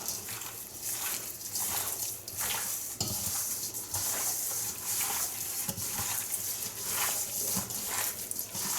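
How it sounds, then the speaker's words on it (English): Seasoned beef for jerky being mixed by hand: steady wet squishing and stirring with soft slaps and rustles, continuous and close. "And I'm going to go ahead and mix this up."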